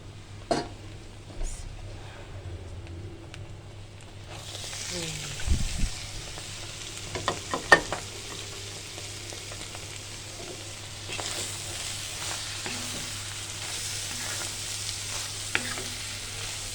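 Steamed cabbage drops into a hot pan and bursts into a steady sizzle, with scraping, clinking stirs of a spatula breaking through the frying hiss at close range.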